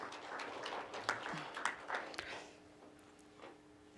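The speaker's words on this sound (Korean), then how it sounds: "우리 뜨거운 박수 부탁드립니다." A small audience at a policy discussion forum on social welfare facility evaluation claps for an incoming panelist, a sparse, soft scattering of hands fading out after a couple of seconds.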